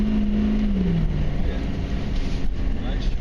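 A 1994 Chevy Silverado K1500 with a 6.5L turbo diesel engine spins out on a road with dry pavement. The engine drones loud and close with a falling pitch, and road rumble runs under it for the whole stretch.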